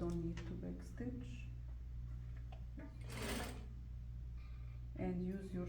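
A sewing machine runs steadily, machine basting a Peter Pan collar to a bodice neckline. The motor hum is continuous and fairly close, with bursts of speech over it.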